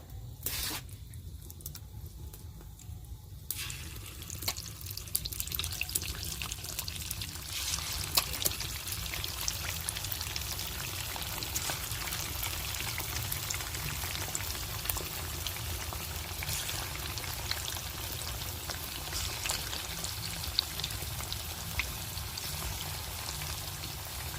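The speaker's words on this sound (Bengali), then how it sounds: "পকোড়াটা ভাজতে অনেকটা সময় লাগে একই রকম দিয়ে আমি সব পকোড়া ভেজে নেব" Chicken pakoras fry in hot oil, a continuous dense crackle and sizzle with scattered pops and spits that holds steady throughout, heard close and alone.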